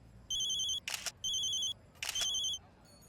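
A phone rings in bursts of electronic trilling, two cycles with brief noisy buzzes between them, fairly quiet.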